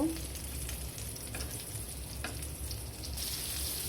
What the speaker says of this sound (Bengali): এখন আমি পটলগুলাকে এইভাবে ভেজে নিচ্ছি।